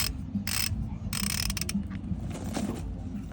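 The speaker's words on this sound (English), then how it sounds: "Now, Brian, you want to start tightening?" Ratchet wrench tightening the joint kit bolts on a three-piece exhaust manifold of a Caterpillar 6NZ engine, heard as bursts of quick clicking strokes in a back-and-forth rhythm over a steady low mechanical hum.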